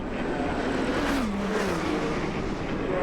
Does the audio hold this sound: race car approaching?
yes